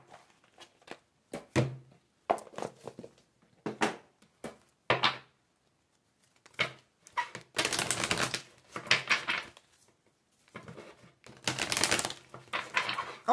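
A deck of tarot-style cards being shuffled in a fortune-telling reading, heard as close bursts of riffling and rapid flicking broken by short pauses and taps, without speech.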